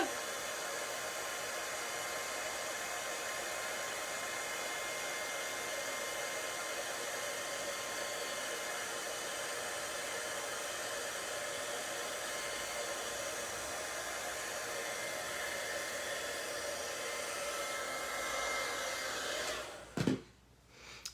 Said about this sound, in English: you just heat it up until the embossing powder is melted and smooth